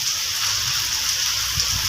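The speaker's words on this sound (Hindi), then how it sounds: "ये बारिश हो रही है" Steady rain falls in Rawalpindi, a continuous even hiss of drops on surfaces filling the whole stretch with no pauses or voices.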